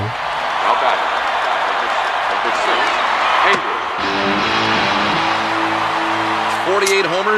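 Baseball stadium crowd from a film scene, a continuous loud roar of cheering and applause throughout, with a male announcer-like voice talking over it in the second half.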